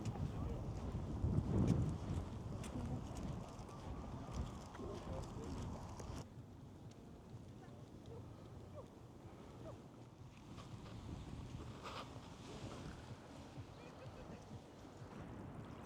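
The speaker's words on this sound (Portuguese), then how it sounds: "Como vocês podem ouvir, eu acho que tá muito vento." Strong wind blows at a beach in Copenhagen, buffeting the microphone with a constant rumbling roar. The wind is loudest during the first few seconds, then eases to a lower, steadier gust.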